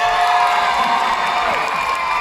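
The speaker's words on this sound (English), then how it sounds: "give Stephen a cheer" Audience cheering and whooping at a live children's show at Butlins Bognor, a loud, dense crowd roar held steady for a couple of seconds with children's shouts mixed in.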